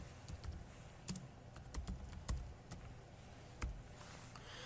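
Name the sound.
typing on a computer keyboard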